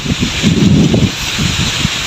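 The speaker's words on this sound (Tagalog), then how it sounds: "ay hangin naman." Strong wind blowing outdoors by a sponge gourd patch, gusty buffeting rumble against the microphone, loud and close, surging and easing over a couple of seconds.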